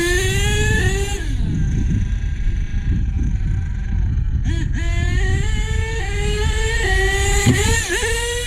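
A radio-controlled car's electric motor revs hard at full throttle during a big air jump, whining and rising in pitch, then easing off and surging again in loud, close bursts.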